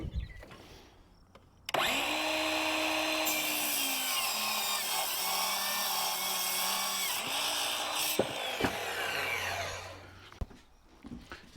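A power saw cuts through a wooden board for a cargo trailer window frame, starting abruptly and running loud and steady for about eight seconds with a whining pitch, then winding down, with no talk.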